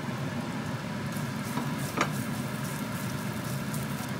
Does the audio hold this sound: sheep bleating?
no